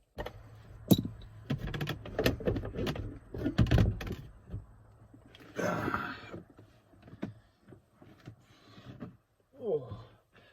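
Close metallic clicks and rattles of a wrench working a 13mm nut, with intermittent scraping and clunks against a Saab 9-3 XWD car door.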